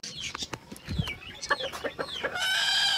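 Aseel roosters cluck and squawk close by in a pet enclosure, with short, irregular calls building into a longer, louder strained cry near the end.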